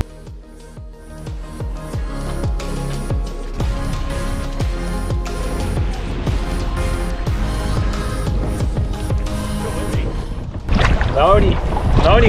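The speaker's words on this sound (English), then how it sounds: "there's a really bad headwind coming at us" Strong headwind buffets the microphone while paddling a boat through a gorge at Katherine Gorge, a dense, steady roar of wind noise with water sounds underneath, growing gustier toward the end; voices are faintly present.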